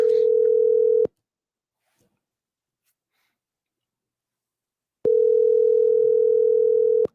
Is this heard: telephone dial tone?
yes